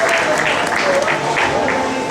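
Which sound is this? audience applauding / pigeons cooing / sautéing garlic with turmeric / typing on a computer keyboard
audience applauding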